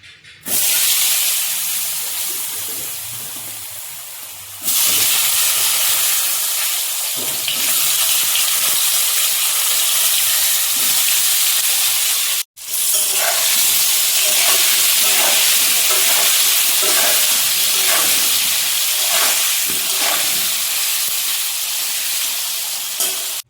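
Slices of pointed gourd (potol) frying in a pan give a steady, loud sizzle and hiss, with occasional stirring clinks and a brief break partway through.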